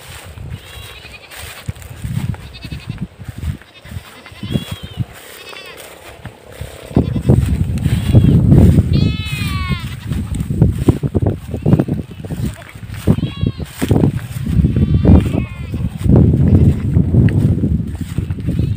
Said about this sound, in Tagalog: Itong ating kambing.